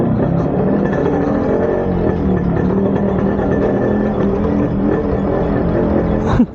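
Yamaha RX100 motorcycle engine rolling downhill, a loud, close, steady two-stroke drone that continues throughout.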